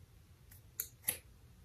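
Scissors snipping through faux locs hair to trim them to bob length: a faint first cut followed by two brief, crisp snips close by in a quiet room.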